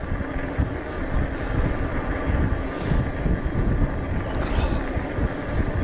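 Strong wind buffets the microphone during an outdoor ride along England's south coast, with a steady broadband rush and gusty swells throughout and no voices.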